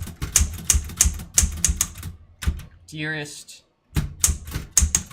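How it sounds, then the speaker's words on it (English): A manual typewriter clacks in rapid bursts of sharp key strikes, broken by a short pause with a brief ringing tone, while a person speaks close by. "we need to mic the typewriter"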